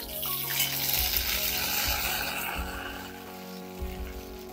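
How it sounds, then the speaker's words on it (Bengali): Ginger paste sautéing in hot oil in a wok with a dried red chilli: a steady, close sizzle and crackle, with scraping and stirring bumps under it and a faint hum in the background. "আদাটা খুব সুন্দর করে কষিয়ে নিয়েছি"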